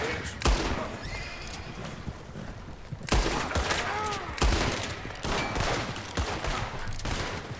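Gunshots in Red Dead Redemption 2, several sharp loud cracks spaced a few seconds apart over outdoor ambience with a horse whinnying, and someone speaking in between.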